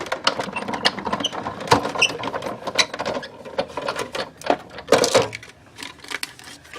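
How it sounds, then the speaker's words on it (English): Cardstock cranked through a die cut machine to cut a scalloped card opening gives close, continuous mechanical grinding and ratcheting clicks with uneven bursts, with no talk. "And then run that through your die cut machine."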